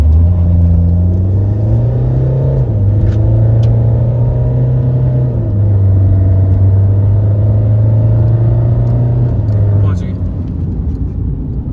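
A Mahindra XUV500 accelerating hard from 0 to 100 in D mode with traction on, a loud, close engine drone rising in pitch through steady gear changes, with a voice talking over it.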